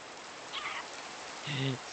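Steady rain hissing in the video game Minecraft, an even, soft downpour running throughout with brief game sound effects and a voice briefly breaking through.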